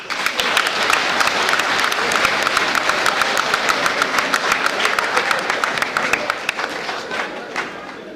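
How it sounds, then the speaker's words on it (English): A roomful of police officers applauds loudly. Dense, steady clapping fills the room and fades slightly toward the end. "I want every living officer inside this room give themselves a round of applause."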